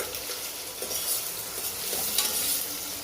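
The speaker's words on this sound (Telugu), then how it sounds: "ఒక టమోటా, ఆనియన్స్, మిర్చి వేసుకొని బాగా మిక్స్ చేయండి." Tomato, onions and green chillies being stirred in a hot pan for ghee rice, giving a steady sizzle and frying hiss with soft scraping of the spoon, close and continuous without any voices.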